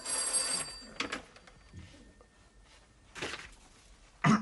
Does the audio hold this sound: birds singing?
no